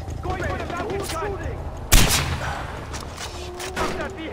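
A mountain gun fires once in Far Cry 4, a single sharp loud blast standing out above ongoing game sounds and faint voices.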